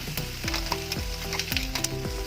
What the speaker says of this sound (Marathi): आता या तडतडणाऱ्या फोडणीवर आपण हा ठेचा परतून घेणार आहोत